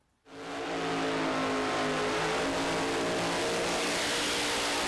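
A Pro Mod drag race car at Santa Pod Raceway blasts off with an abrupt, very loud engine roar that holds at full power as a harsh, sustained bellow.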